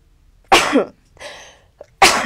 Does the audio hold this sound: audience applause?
no